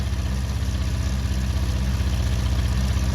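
A Honda CB400 Four classic motorcycle engine idles steadily and loudly up close during restoration carburetor adjustment, its even low pulsing unbroken and with no clear rev.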